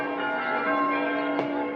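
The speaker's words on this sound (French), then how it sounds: "Les cloches sonnent" A church bell ringing in New Caledonia to mark news of the Normandy landings, a sustained ringing tone with lingering resonance and one fresh strike near the end, heard alone.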